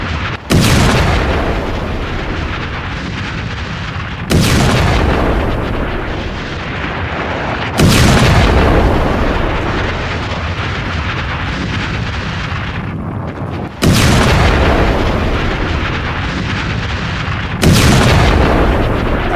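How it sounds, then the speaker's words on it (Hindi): Loud, heavy missile explosions land one after another at irregular intervals, each followed by a long roaring rumble, like repeated nearby blasts. "जहां पर मिसाइल गिरी काफी बड़ा वहां गड्ढा हो गया। ये देखिए धमाका हुआ।"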